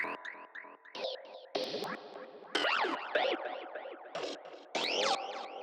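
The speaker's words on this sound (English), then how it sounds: "So basically with this sequencer, we have a constant movement on the cutoff, and with the envelope follower, we're having these glides" Filter plugin processing a synth line, the cutoff stepping constantly under a sequencer while an envelope follower adds sweeping glides; rhythmic bursts with swooping, vowel-like arcs, loud and continuous with no voices.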